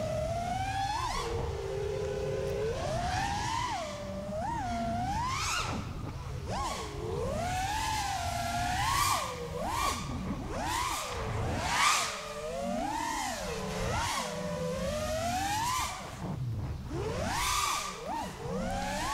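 Whining motors of an FPV racing drone fitted with NewBeeDrone SMOOV motors, pitch swooping up and down constantly as it flies, loud and close throughout with no talking.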